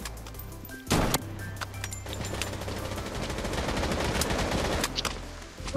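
Rapid bursts of automatic gunfire and sharp single shots crackle through a battle in the shooter game Project Blood Strike, with a loud crash near the start and continuous firing throughout.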